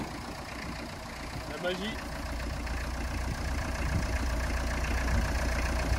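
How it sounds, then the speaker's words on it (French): A camper van's engine idles steadily after being restarted following a starter failure during a breakdown in the Czech Republic, a continuous low rumble running throughout while people talk briefly over it. "finalement, comme vous pouvez l'entendre, le moteur a redémarré"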